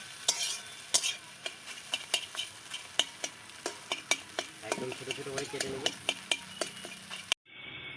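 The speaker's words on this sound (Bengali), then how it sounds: "ডিমটা আমাদের ভাজা হয়ে গেছে, তো এবার তুলে নেব।" Chopped egg sizzles in a kadai while a metal spatula stirs it, making sharp, irregular taps and scrapes over a soft frying hiss. A brief spoken remark is heard partway through, and the sound cuts off abruptly near the end.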